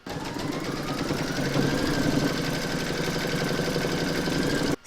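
An embroidery machine stitches quilting across an in-the-hoop yin yang coaster, a loud, continuous rapid mechanical whirring with a steady needle rhythm that stops abruptly at the end.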